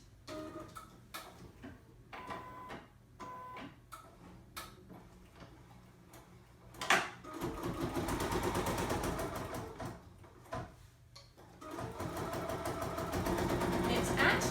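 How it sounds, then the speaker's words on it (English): An embroidery sewing machine stitches an appliqué placement line, starting with scattered ticks and short bursts, then settling into a fast, steady mechanical whirring hum that runs close and continuous, with a soft voice talking underneath at the start. "now we're ready to stitch color number 2, and this is the placement line that's going to show me exactly where to put the applique shapes"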